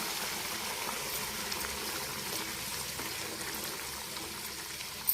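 Hot water poured into a pot, a steady close gushing stream that runs continuously without pause, with no voices.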